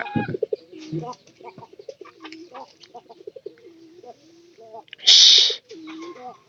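Pigeons at a livestock market coo in a low, repeated rumble under close, busy talk, cut by a sudden loud rushing burst of noise near the end.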